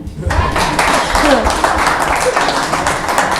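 A graduation audience claps in a dense, continuous patter that begins just after a brief quiet start and carries on steadily, with voices mixed into the applause.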